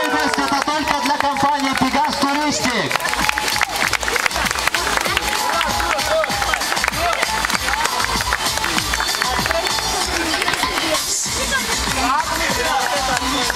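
A crowd applauds and cheers a cliff diver after a 15-metre jump in Alanya. The clapping is dense and sustained throughout, and someone talks loudly over it.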